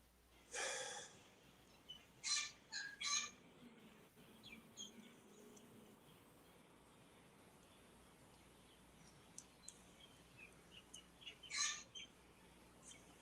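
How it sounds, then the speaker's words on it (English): A small bird chirps in short, scattered calls at moderate distance over a faint hiss, with a few louder notes near the start and again toward the end. "That's a bird."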